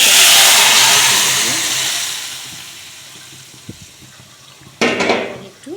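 Leafy greens for dal shak poured into a hot wok with oil and garlic, a loud broadband sizzle that fades gradually, then a sharp clatter and renewed sizzling near the end.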